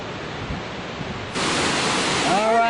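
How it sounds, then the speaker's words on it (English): Steady broadband rush of water flowing down in the gorge above Deer Creek Falls in the Grand Canyon, like a distant torrent, growing louder partway through, with a faint whistling tone near the end. "You can hear the water down in there."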